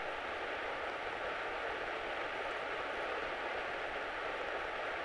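A Grumman light airplane's piston engine drones steadily inside the cockpit during takeoff climb, a constant loud buzzing hum with no breaks.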